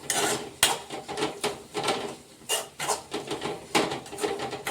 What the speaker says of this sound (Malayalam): മല്ലിപ്പൊടി ചേർത്ത് ഇനി ഒന്ന് ഇളക്കി കൊടുക്കും